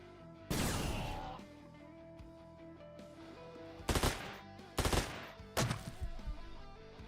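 Gunfire in the video game Quasimorph: several loud, sharp bursts of shots separated by pauses, with a low steady hum of game background underneath.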